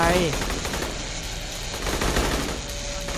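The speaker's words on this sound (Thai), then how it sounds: "มันยิงอะไรกันวะเนี่ยมันยิงกันเองเหรอ" Rapid automatic gunfire from the video game Aliens: Colonial Marines rattles in dense bursts, loud and continuous, with a voice speaking over parts of it.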